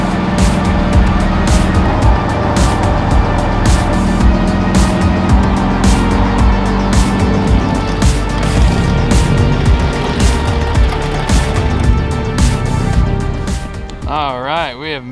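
A Ford Galaxie with a blown transmission cruises at freeway speed, its engine droning steadily with heavy road and wind roar throughout, while a voice talks over it.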